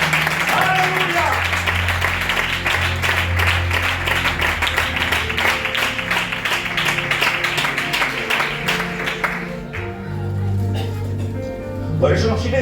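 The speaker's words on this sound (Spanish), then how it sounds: "Dale un fuerte aplauso a nuestro Dios." A church congregation at a Spanish-language worship service claps together, a loud sustained applause over music and voices, thinning out near the end as the sound drops back.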